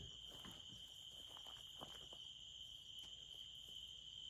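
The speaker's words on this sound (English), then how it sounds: "I want to get the cricket sounds here in Texas." Crickets chirp in a steady, high-pitched continuous trill in Texas, with a few soft ticks and rustles in the quiet night background.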